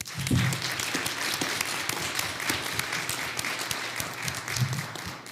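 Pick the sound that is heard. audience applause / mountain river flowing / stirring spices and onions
audience applause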